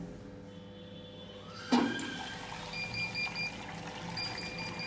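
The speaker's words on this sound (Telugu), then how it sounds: "ఇక్కడ వాటర్ స్టార్ట్ అవుతుంది." Water runs into a Bosch Series 6 washing machine after a sharp click, a soft, steady rush of filling water continuing at low level with faint electronic tones.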